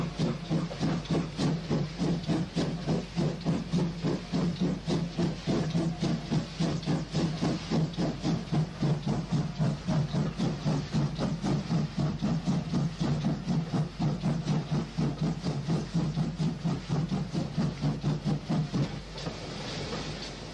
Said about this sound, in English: the pannier tank begins the attack on the 7 mile bank